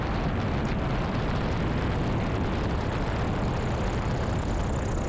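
A small propeller airplane roars loudly and steadily, close up, with broadband engine drone and rattling vibration while landing on a rough, dry-mud grass airstrip.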